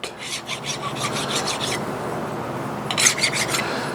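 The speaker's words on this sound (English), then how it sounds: "Run a file over that real quick." A hand file rasps over a small metal lathe gear to deburr it, with a quick run of rhythmic strokes, a pause, then another short burst of close, scratchy rasping.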